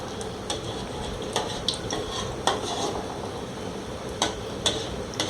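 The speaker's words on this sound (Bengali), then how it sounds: "আরও কয়েকটা বড়া ওর সাথেই দিয়ে দিলাম যেন একসাথে ভাজা হয়ে যায়" Palm fruit fritters crackle in hot oil, a steady sizzle broken by repeated sharp clinks and taps of a utensil against the pan.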